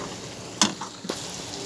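Masala spices frying in a pan for aloo keema, a soft steady sizzle close by with a couple of sharper stirring scrapes.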